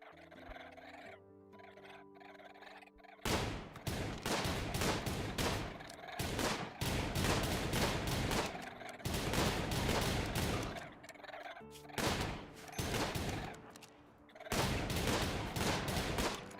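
Video game gunfire rings out while enemies are shot, long rapid bursts of loud shots in several volleys separated by short pauses, with a faint tonal background between.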